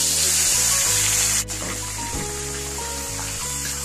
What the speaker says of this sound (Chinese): 香料炒香了以后下入咱们剁好的鸡块